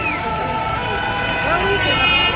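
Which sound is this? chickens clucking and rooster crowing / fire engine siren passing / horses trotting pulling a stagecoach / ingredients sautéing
fire engine siren passing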